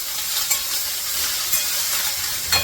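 Spatula stirring a thin methi leaf vegetable dish with added salt in a hot pan, a continuous bright sizzle and scraping with a few louder strokes, close up with no talk.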